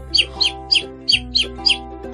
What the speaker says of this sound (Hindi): यानी चिड़िया